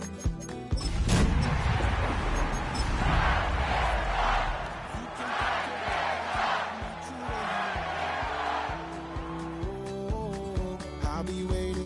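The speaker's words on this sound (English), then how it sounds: "A great crowd on hand to battle the raindrops at Nissan Stadium in Nashville." A large stadium crowd roars and cheers at Nissan Stadium in Nashville in a Madden football game, in rainy weather, a sustained wash of crowd noise with a loud hit near the start and music rising toward the end.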